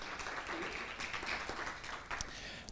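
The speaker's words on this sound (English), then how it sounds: "So an extra applause for you maybe for that." A conference audience applauds customers with soft, distant, fairly dense clapping that stays at a low, even level throughout.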